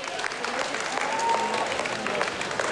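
Studio audience applause for Zlatka at a Bulgarian TV show, a steady wash of many hands clapping at moderate distance, faint talk mixed in.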